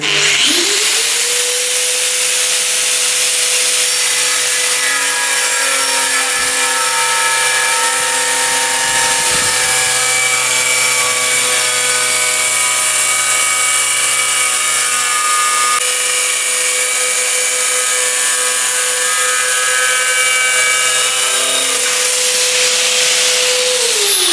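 An angle grinder fitted with a 125 mm Distar Esthete disc cuts ceramic. It holds a loud, continuous high-pitched whine at full speed for the whole stretch, with a slight change in tone partway through and no talking.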